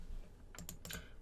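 Quiet, rapid typing on a Razer BlackWidow Chroma mechanical keyboard, a few crisp key clicks bunched together over a low background hum.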